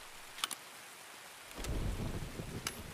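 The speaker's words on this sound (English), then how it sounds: "Rain is not for me, Chad." Steady rain hisses throughout in the video game Escape From Tarkov, with a low rumbling swell of heavier rain or distant thunder midway and a few sharp clicks on top.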